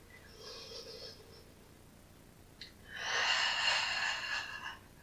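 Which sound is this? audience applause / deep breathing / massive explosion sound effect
deep breathing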